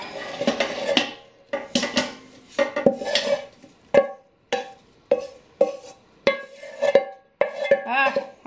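A hamburger meat mixture tipped from one pan into a pot for chili on a stovetop, then stirred: loud close clanks and scrapes of metal on metal in separate bursts with ringing tails, broken by short pauses.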